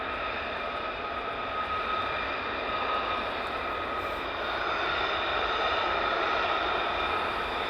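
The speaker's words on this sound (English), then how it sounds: "F35s now taxiing down" F-35 jets taxi at RAF Lakenheath at night, giving a steady, fairly distant turbine whine with a high tonal hum that holds unbroken throughout.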